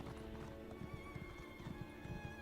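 A horse galloping in the Elder Scrolls Online video game: a steady, quick clip-clop of hooves under a continuous tonal music bed, at a moderate level with no talk.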